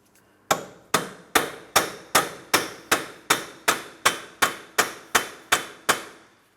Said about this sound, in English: A hammer and punch directly in the center of the axle shaft. Let's tap on this, breaking the axle shaft free from the wheel bearing.